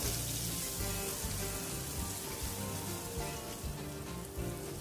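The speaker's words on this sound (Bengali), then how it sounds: "তো আমি ভেজে নেব পেঁয়াজগুলো।" Onions sizzle in hot oil along with green and red chillies, a dense, steady frying crackle heard close and alone for several seconds.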